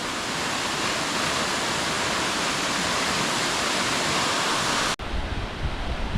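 A waterfall in Istria, Croatia, pours in a dense, steady broadband roar, loud and close, with a brief cut near the end before the rushing resumes.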